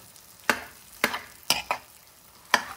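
Beef mince with spices frying over a medium gas flame, stirred in five sharp, separate scrapes of the spoon against the pan above a faint sizzle, close by with no voices.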